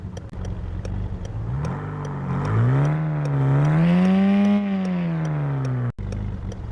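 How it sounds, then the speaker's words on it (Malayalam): Engine of a Mahindra Thar in the mobile game Car Parking Multiplayer, revving up from idle into a sustained high drone that rises, holds, then falls back before cutting off abruptly. "ഇതാണ് എൻജിൻ സൗണ്ട്."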